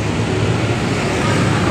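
Steady wind rushes loudly and continuously across a microphone outdoors on an overcast day near a garden plant box, a broad, unbroken roar with no pauses.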